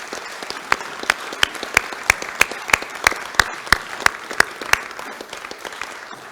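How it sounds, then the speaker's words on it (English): Applause from a Rotary club meeting audience welcoming incoming committee leaders, a steady wash of many hands clapping with sharp individual claps standing out, moderately loud and sustained throughout. "How about a round of applause for our incoming committee leaders?"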